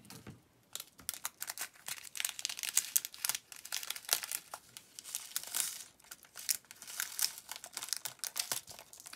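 Snipping open a small plastic packet of leftover diamond painting drills, with close crinkly rustling, small clicks and handling noises continuing irregularly throughout, no talking.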